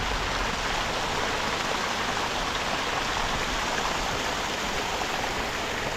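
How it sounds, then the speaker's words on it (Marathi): A waterfall near the Bedse caves in Maval, Maharashtra roars as a dense, steady rush of falling water, loud and unbroken, with no voices. "हा धबधबा छान."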